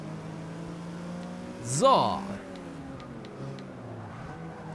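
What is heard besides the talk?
Porsche race car driving in Forza Motorsport 6 video game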